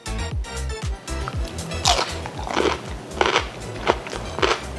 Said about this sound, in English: Now that's a crunchy pickle.